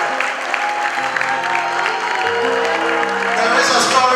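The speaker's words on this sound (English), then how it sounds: "I guess the applause says it all." Applause from the audience at a school graduation ceremony carries steadily over a few seconds, with a voice on a microphone speaking over the clapping throughout.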